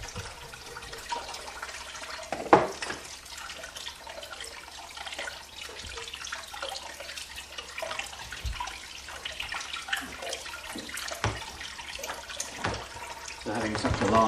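Soaked rice being drained and washed in water, with splashing and sloshing, running water and small clatters, moderately close and fairly continuous throughout.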